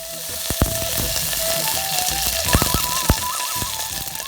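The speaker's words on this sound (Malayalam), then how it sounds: "അപ്പോൾ നന്നായിട്ട് പൊട്ടിക്കഴിയുമ്പോഴത്തേനും അതിലേക്ക് പച്ചമുളകും കറിവേപ്പിലയും ഇട്ട് ഒന്ന് ചൂടാക്കുക" Green chilies and curry leaves crackle and sizzle in hot coconut oil, loud and close, with sharp pops scattered over a steady frying hiss.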